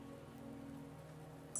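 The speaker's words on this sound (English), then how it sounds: "Don't worry, the rain won't last much longer." Rain patters steadily and softly on surfaces in the video game Wuthering Waves, an even hiss with scattered drops over a faint low hum, ending with a brief bright tone.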